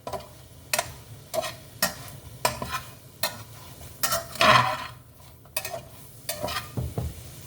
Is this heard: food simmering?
yes